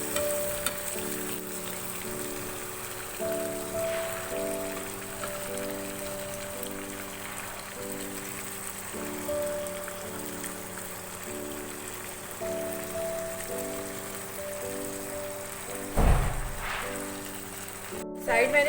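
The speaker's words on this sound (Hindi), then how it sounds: "अब हम इसको मीडियम फ्लेम पे फ्राई करेंगे।" Afghani chicken pieces frying in a pan over a medium flame, giving a steady, even sizzling hiss throughout, with soft melodic tones playing underneath.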